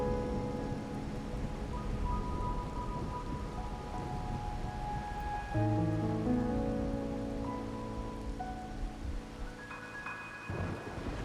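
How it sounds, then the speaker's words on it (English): Rain and rolling thunder in a stormy scene from the video game Wuthering Waves, a steady wash of rainfall with low rumbles beneath sustained musical tones, no talking. "My granddaughter told me Ragunna's rain is a bad omen."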